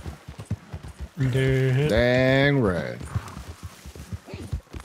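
A horse in the video game Red Dead Redemption 2 clip-clops along in steady, evenly spaced hoofbeats close by, and someone talks over them with a long drawn-out voiced sound in the middle.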